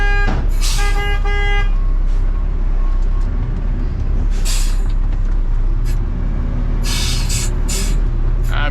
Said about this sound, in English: I beep the horn in case they have any more garbage inside